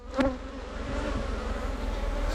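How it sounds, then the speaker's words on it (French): Honey bees buzzing around a hive during an inspection, a steady close drone of many insects with one louder bee passing near the start. "On voit des abeilles, de la propolis sur les pieds, sur les pattes."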